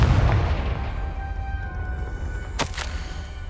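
A Confringo fire spell bursts in Hogwarts Legacy: a heavy booming blast opens, a low rumble lingers, then a sharp crackling burst flares near the end, loud and close with no voices.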